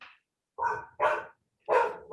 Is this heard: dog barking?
yes